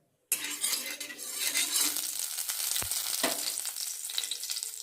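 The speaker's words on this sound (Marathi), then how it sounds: "सुरुवातीला कांदा टाकूया, नंतर परतूया कांदा" Loud, continuous sizzling as onion is dropped into hot oil in a wok, with scraping stirs and a metallic clink partway through.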